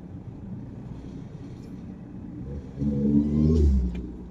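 A Kawasaki Z12 motorcycle revs in heavy December traffic on an expressway, a low engine rumble building and swelling louder toward the end amid surrounding vehicle noise.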